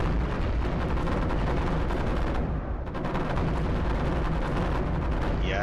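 A machine gun turret in iBomber Defense fires dense, continuous bursts of rapid gunfire amid explosions, loud and unbroken apart from a brief dip partway through.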